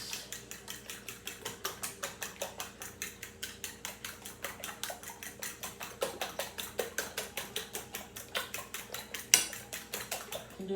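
Eggs being mixed with salt, pepper and garlic in a bowl, heard as a steady run of quick, sharp clinks and taps of a utensil against the bowl, close and fairly quiet, with no talking.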